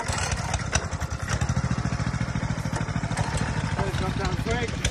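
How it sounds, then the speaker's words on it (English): Demolition derby car engines rumble and idle together at the start of a grudge match, a loud continuous throbbing that runs steadily throughout, with talk and crowd voices mixed over it. "Gentlemen, Tex, start your engines."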